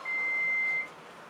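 A single steady electronic beep from an elevator floor indicator, clear and close, lasting under a second before fading into quiet room hum.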